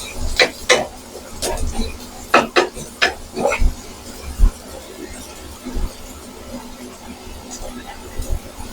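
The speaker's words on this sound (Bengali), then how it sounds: "পেঁয়াজটা দেওয়ার পরে আপনারা ফিউ সেকেন্ড একটু নাড়াচাড়া দিবেন" Onions stirred in a pan while frying rice, with a few sharp scrapes and clatters of a utensil against the metal early on, then quieter intermittent knocks.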